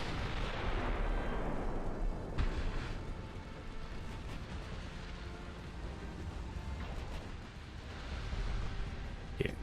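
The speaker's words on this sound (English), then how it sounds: "8-inch hits on the heavy cruiser from our battleships, actually." Battleships fire on a heavy cruiser in a 1930s naval battle in Ultimate Admiral Dreadnoughts: faint, distant rumbling gunfire with a couple of sharper booms rising out of a low continuous roar.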